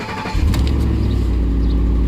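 A 2010 Ford F-150 truck engine cranks briefly and catches, then settles into a loud, steady idle close by.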